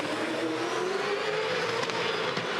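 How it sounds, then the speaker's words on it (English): Repco Supercars race cars at the Hamilton street circuit, engines roaring loud and steady with a rising engine pitch as a car accelerates through the corners, constant and close with no break. "A superb drive from Mark Winterbottom."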